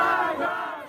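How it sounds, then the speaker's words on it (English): An angry crowd at a political gathering in Iran shouts and chants in unison, a dense, loud roar of many voices that holds steady throughout. "these crowds who were shouting death to the compromiser, death to the appeaser"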